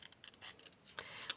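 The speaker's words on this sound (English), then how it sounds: "just using my fussy cutting scissors here from Tim Holtz, cutting out some of these larger stamps" Small Tim Holtz fussy cutting scissors snip through paper stamps in a few quiet, close, crisp cuts spaced unevenly over a moment.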